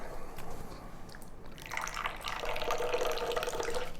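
Hot water is poured from height into a cup for brewing ripe pu-erh tea, a bubbling, splashing stream that starts after a brief dribble and grows steadier and fuller, heard close with no talking.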